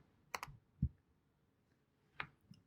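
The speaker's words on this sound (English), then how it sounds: "hit Shift M on the keyboard" Computer keyboard keys pressed while working in Adobe Illustrator: three or four separate, crisp clicks spaced irregularly, close and fairly quiet, with no talking.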